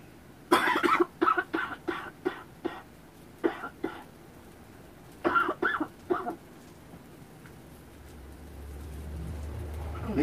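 A person coughs repeatedly in short clustered bursts, fairly close, with pauses between fits and no talking, over a soft ambient background.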